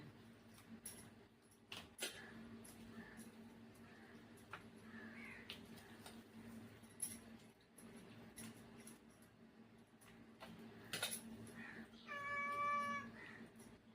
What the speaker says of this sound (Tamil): பக்கத்து வீட்டு பூனை எங்கே இருந்தோ ஓடி வந்துட்டு